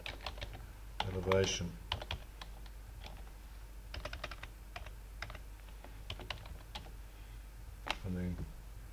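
Keystrokes on a computer keyboard come in short bursts of clicks while someone drafts text and dimensions, mixed with a voice speaking over low room hum.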